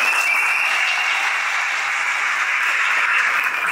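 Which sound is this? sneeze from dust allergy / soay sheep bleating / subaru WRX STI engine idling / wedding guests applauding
wedding guests applauding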